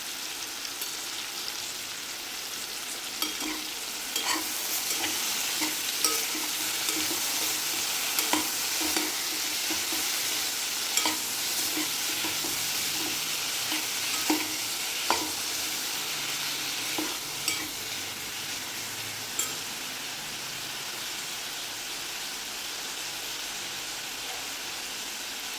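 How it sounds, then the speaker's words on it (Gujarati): Bitter gourd curry sizzles steadily in a pan while a spoon stirs it, with repeated clicks and scrapes against the metal over a constant frying hiss, close and moderately quiet. "હવે એને સારી રીતે હલાવી લઈશું."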